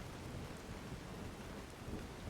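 Heavy rain pouring steadily in the Skyrim video game world, a dense continuous hiss with a low rumbling undertone, unbroken across the whole moment and with no voices.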